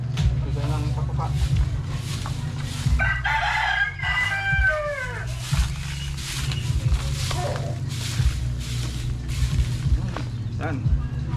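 A close flock of chickens clucks steadily at feeding time while a rooster crows several times. The dense, loud farmyard chatter runs without a break throughout.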